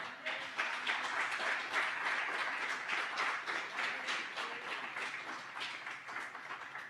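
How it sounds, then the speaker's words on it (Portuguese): A church congregation applauds the Lord, a sustained, moderately distant roll of many hands clapping with a faint pulsing rhythm that tapers slightly at the end. "Pode aplaudir o Senhor então?"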